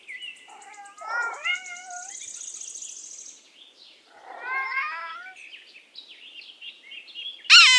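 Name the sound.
cat meowing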